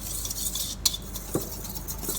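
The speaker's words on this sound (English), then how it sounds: "I'm just going to whisk these all together" Donut batter ingredients are whisked together in a bowl, making a continuous soft scraping swish with a few light clinks of the whisk against the bowl.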